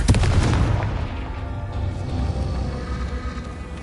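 A Confringo explosion spell from the Hogwarts Legacy video game goes off as a loud, deep blast at the start. Its booming rumble decays slowly over several seconds.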